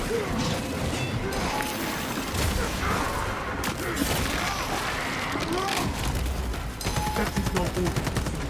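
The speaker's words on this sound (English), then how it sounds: "Exchanging rounds." Dense gunfire exchange in a game featuring the Bulwark, continuous rattling shots with heavy impacts and crashes layered throughout, loud and close, with brief voice lines mixed in.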